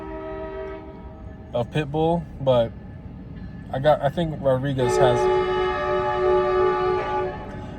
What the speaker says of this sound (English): Of course, a train is coming by.